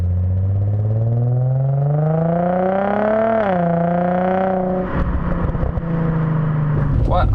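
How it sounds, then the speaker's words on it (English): A 2004 Infiniti G35 engine revs up through a Borla exhaust, its pitch climbing steadily and peaking before settling into a loud, steady drone. Up close it sounds smooth and deep, with a brief clatter near the end. "I could rev the engine up a little bit higher and hear the exhaust note"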